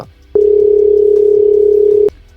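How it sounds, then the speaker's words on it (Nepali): A telephone dial tone sounds as a call is placed from a mobile phone: one steady, loud, unbroken tone that lasts under two seconds and then stops abruptly, with nothing else heard. "त्यसपछि अंशुको मोबाइलमा विनोदको सिम हालेर फोन गरिन्छ"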